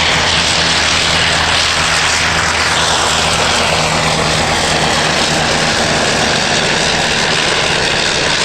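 An Avro 504 biplane powered by a Le Rhône rotary engine drones loudly and continuously nearby, its propeller roar holding steady throughout with a faint shifting pitch as it passes at a flying display.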